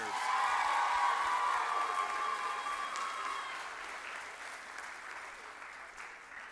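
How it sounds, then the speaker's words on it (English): An audience at a school spring play, Goldilocks on Trial, applauds the seniors with steady, full clapping that starts strong and slowly thins and fades over several seconds. "So everybody give another round of applause to our seniors."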